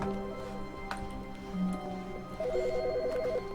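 A telephone rings in the video game The Stanley Parable, a short electronic warble rising over a humming room background near the end, with no voices.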